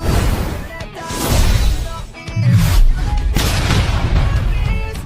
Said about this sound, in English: After a violent explosion